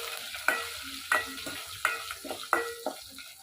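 Fenugreek seeds, mustard seeds, crushed garlic, cumin and four dried red chillies fry in a pan for rasam, with a quiet sizzle under five or six crisp, evenly spaced spoon taps and stirring scrapes.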